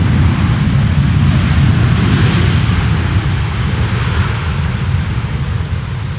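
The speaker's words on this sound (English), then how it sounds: "Modest and somewhat belated use of the reversers there." An airliner lands on runway 18R at Amsterdam with a broad, loud roar that rises as the thrust reversers deploy, then slowly eases off. The sound is steady and continuous for about six seconds, with no voices.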